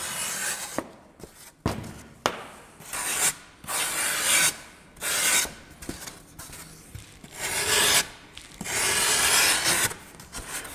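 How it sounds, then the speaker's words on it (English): A grater rasps across a handmade heart form to cut a sharp line, giving a series of close, scratchy strokes in an irregular rhythm with short pauses between them and no talking. "from the back we can use our grater to make a sharp line"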